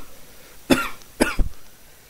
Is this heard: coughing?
yes